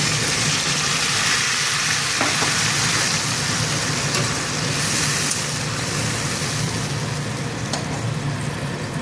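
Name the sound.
potatoes frying with spices added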